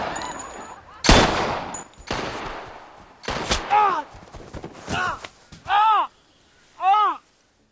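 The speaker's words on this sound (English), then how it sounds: "but Gabby shoots him in the leg." Gunfire in a dramatic film scene: several sharp, loud shots and thumps early on, then fainter bursts spaced over several seconds, with voices and crow-like calls breaking in between.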